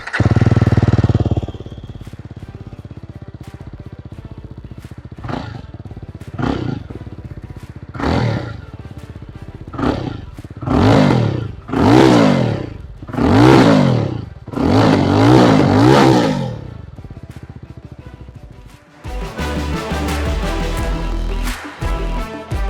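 A Jawa 350 motorcycle engine is blipped repeatedly from idle, each rev rising and falling in a series of increasingly strong, raspy exhaust bursts, before settling into a steady, loud running note close to the microphone.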